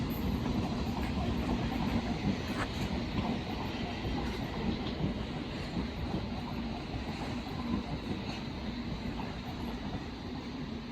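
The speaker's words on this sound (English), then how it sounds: "a terminating Hammersmith City line service from Hammersmith comes in as well" A London Underground Hammersmith & City line train pulls into Barking station, a steady broad rumble with rail clatter and faint wheel squeal throughout, fairly close, without voices.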